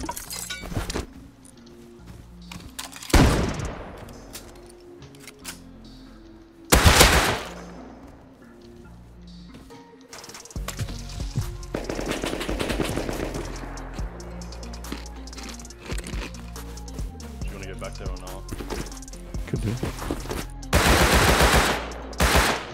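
Gunfire in the Rust survival game: a few sharp shot bursts stand out near the start and middle, with a sustained stretch of noisy firing and clatter later on and a loud burst near the end, and no voices.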